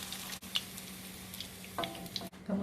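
Garlic frying in oil, a soft, steady sizzle with occasional louder crackles and a faint clink of stirring.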